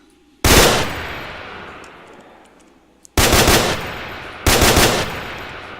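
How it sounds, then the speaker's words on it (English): Three loud, close bursts of M16 three-round burst gunfire from a Minecraft guns mod. Each burst cracks sharply and then fades, with gaps of about two seconds and then one second between them. "It's not fully automatic at all. It's just a 3-round burst."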